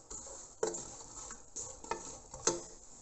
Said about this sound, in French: Voilà, je mélange